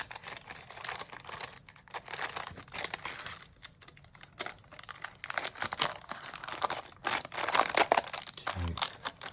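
White paper wrapping around a tarot deck crinkles and rustles as it is carefully peeled open, with irregular crisp crackles throughout and a soft voice now and then.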